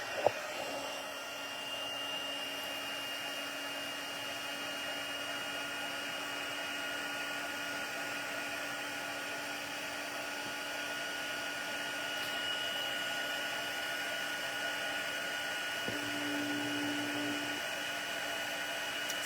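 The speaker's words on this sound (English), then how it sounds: "So I'm going to use my heat tool. It's going to get a little loud here" A heat embossing tool blows with a steady, loud whir for about nineteen seconds while melting embossing powder on a handmade card, its tone shifting slightly toward the end.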